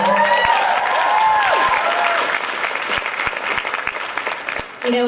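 A large audience at the DC Super Sunday event in 2018 gives loud, sustained applause and cheers, while a voice and swooping musical tones briefly rise over the clapping.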